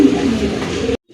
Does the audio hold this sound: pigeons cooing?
yes